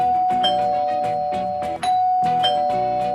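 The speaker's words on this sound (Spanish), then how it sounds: "cuando en una casa suena el timbre" A doorbell chimes in a house, repeating its ding-dong tones several times in steady succession, loud and clear with no voices.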